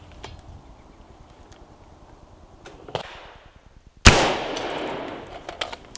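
A rifle with a 16-inch barrel fires a single sharp, loud shot of 62 grain green tip ammunition into a level III armor plate, its decaying blast following a few quieter clicks and handling noises.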